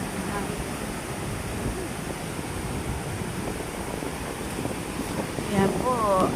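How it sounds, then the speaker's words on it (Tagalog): Strong typhoon wind roars and buffets the microphone in a constant, heavy rush, with a brief voice rising near the end. "Ang lakas po na ang hangin."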